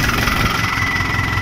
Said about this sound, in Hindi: बहुत ही शानदार आवाज़ है दोस्तों ट्रैक्टर की।